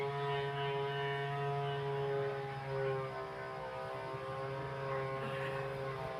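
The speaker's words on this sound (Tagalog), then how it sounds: "At buksan ko muna ang aking aircon." Household aircon unit switched on indoors, a steady close mechanical hum with strong tonal drone and fan whir running continuously without pause.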